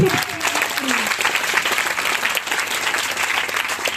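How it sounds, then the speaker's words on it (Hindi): A church congregation claps loudly, a thick, sustained burst of applause filling the room, with a voice speaking faintly over the start. "जोरदार तालियों से प्रभु की महिमा करें।"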